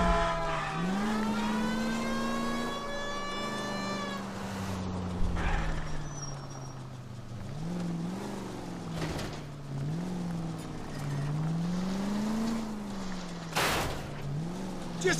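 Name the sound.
car driving in the video game L.A. Noire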